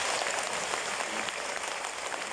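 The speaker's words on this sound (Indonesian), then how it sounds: "Tepuk tangan untuk panitia." An audience applauds the organising committee at a charity fundraising gathering, a dense, steady wash of clapping that holds at an even level throughout, with no voices rising above it.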